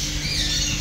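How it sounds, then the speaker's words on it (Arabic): A paradise bird at an animal and bird shop in Baghdad lets out a single harsh, loud squawk that fills the whole short moment, close and alone with no talking. "طائر البارادايس"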